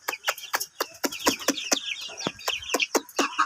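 Native deshi hens cluck and peck in a rapid, uneven run of short, close clucks and sharp clicks, with bursts of soft calls layered over them and no talking.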